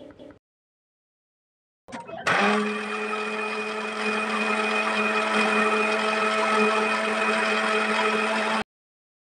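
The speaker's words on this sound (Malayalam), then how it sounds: "ഇവിടുത്തെ മിക്സിയുടെ അരപ്പാണ് കേട്ടോ കേട്ടത്." A kitchen mixer grinder runs with a loud, steady, high-pitched whine as it grinds a paste with curd, starting after a brief noise, holding constant for several seconds, then cutting off abruptly.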